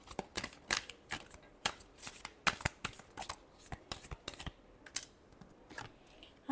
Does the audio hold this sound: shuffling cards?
yes